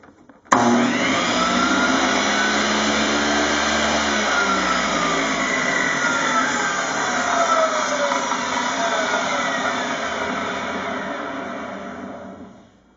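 A repaired table saw starts abruptly and runs steadily at close range, a loud sustained motor whine with a growly gear rumble underneath, pitch drifting slightly before it cuts off near the end.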